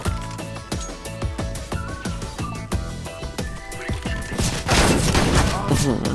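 Rapid shotgun blasts in the CS:GO video game pound out in a fast, repeating rhythm, loud and close over music, building into a dense burst of gunfire near the end.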